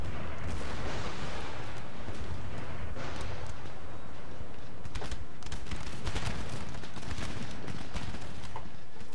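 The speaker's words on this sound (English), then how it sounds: "We have been absolutely blitzed to pieces here by those guns" Artillery and massed musket fire in an Empire: Total War battle, a dense, continuous roar of booming cannon and crackling volleys with no pause, loud and heavy throughout.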